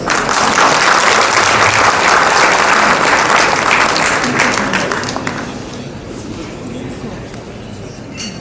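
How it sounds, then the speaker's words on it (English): Loud, dense applause from the audience welcoming a speaker to the stage at the Himalaya Airlines 10th anniversary celebration, holding strong for about five seconds before fading away. "please join me in welcoming him with a round of applause"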